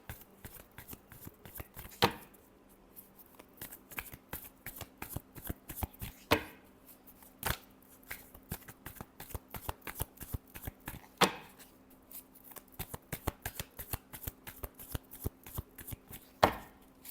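Tarot cards are shuffled by hand close up, with crisp rhythmic riffles and flicks and a few sharper slaps of the deck, quiet and without any other sound.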